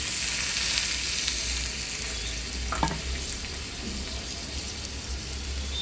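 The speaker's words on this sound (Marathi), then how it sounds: "कांदा भाजून घेऊया आपण आपला कांदा भाजत आलेले" Onion roasting in a pan for a rustic village-style vegetable dish gives a steady, close sizzling hiss throughout, with a brief utensil scrape partway through.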